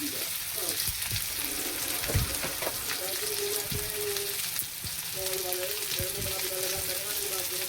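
Turmeric, coriander and chili powder fry with vegetables in a hot pan, giving a steady, close, continuous sizzle with occasional stirring scrapes and faint tones in the background.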